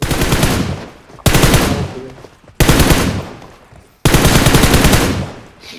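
Loud automatic gunfire from the mobile battle-royale game PUBG Mobile, heard as four long sustained bursts separated by brief gaps, each fading slightly as it runs, with no voice over the shooting.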